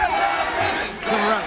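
Arena crowd of fans chanting and roaring at a live competitive match, a steady dense wall of voices with a commentator talking over it.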